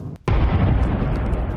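Destroyed Hezbollah rockets near an Israeli Defense Forces base set off a loud, sudden explosion, a brief crack followed by a sustained, heavy roaring rumble.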